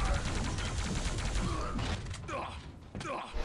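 Weapon fire in the video game Quake during a competitive match, with dense rapid bursts of gunfire and mechanical clanks layered over continuous game noise, fairly loud and busy throughout.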